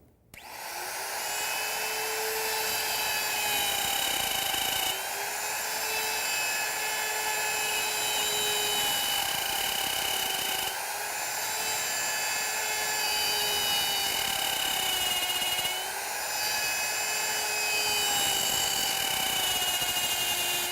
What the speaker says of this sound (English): and we're ready to route